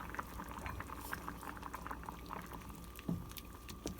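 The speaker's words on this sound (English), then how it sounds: "now that we have a nice simmer going" Soup with potatoes, celery and other vegetables simmering in a pot with rosemary and thyme, a soft continuous bubbling with light patter and a brief knock near the end.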